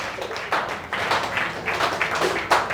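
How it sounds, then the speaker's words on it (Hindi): Students applaud loudly in a classroom, with a burst of dense clapping that comes in uneven waves and short lulls. "नमन के लिए तालियां हो जाए जोर से, तालियों की गूंज पूरे बीसीसी में फैलानी चाहिए"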